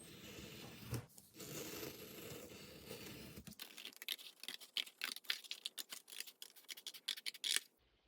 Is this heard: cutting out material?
yes